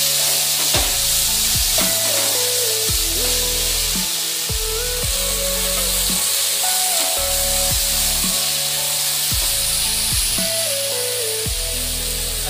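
Chopped green chillies fry in a pan for a chicken roll filling, a loud continuous sizzle and hiss with background music underneath.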